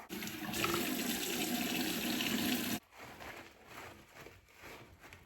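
A bathroom tap runs loudly as cleanser is rinsed off a face, a steady rushing stream that cuts off abruptly partway through, leaving faint drips and small splashy movements in a quiet room.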